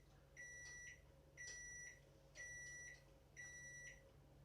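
A microwave oven sounds four evenly spaced electronic beeps, each about half a second long, over a low steady hum in a quiet room.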